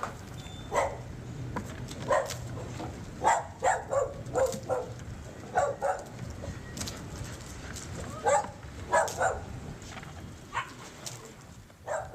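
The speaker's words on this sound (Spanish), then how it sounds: "ayudar a los perros que se encuentran encerrados en dicho sitio" Several dogs shut inside a building bark and yip in short bursts, some close and some farther off, over a constant low rumble of background noise.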